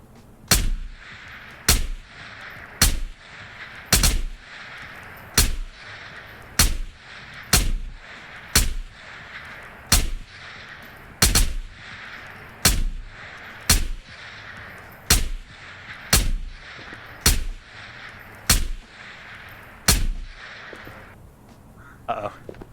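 Sniper rifle gunfire in the Ghosts of Tabor VR shooter during a solo island raid, about twenty loud sharp shots at a steady interval of roughly one second, each with a short echoing tail, and no talk between them.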